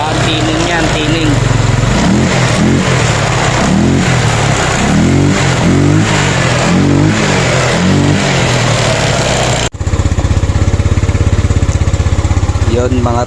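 Yamaha Mio Sporty motorcycle fitted with a 54mm touring set, its engine revving loud and close in repeated rising surges, then settling into a steady buzzing idle after a brief cut, with voices talking over it.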